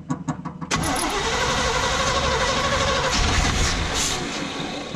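A Chevy C50 tow truck's carbureted engine cranks with several quick turns and then catches. It settles into a loud, steady running roar close by.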